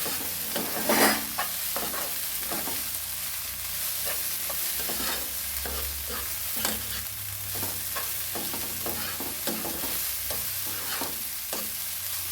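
Cooked jackfruit thoran being stirred in a pan in a Kerala kitchen: repeated scraping strokes of a spoon against the pan over a soft continuous sizzle, close and fairly quiet, no voices.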